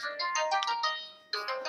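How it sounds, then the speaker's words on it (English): A phone rings with a melodic electronic ringtone, a bright run of rising tones that pauses briefly and then starts again, clear and close, with no talk over it. "Phone's ringing."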